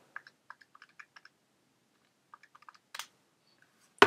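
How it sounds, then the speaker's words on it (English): Calculator keys tapped in two quick bursts of light plastic clicks, close and quiet, with a louder knock or clunk at the end. "I'll just type that into the calculator"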